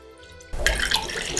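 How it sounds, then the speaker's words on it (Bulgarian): Lukewarm water poured into a bowl for dissolving dry yeast in a home kitchen, a sudden close splash and steady pour starting partway through after a quiet lead-in. "в която ще изсипа 130 мл леко затоплена вода"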